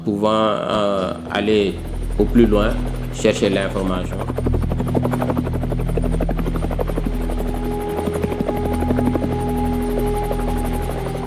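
A Minusca attack helicopter on a peacekeeping flight, its loud, steady rotor drone and rapid blade chop filling the air continuously, with a voice briefly heard at the start.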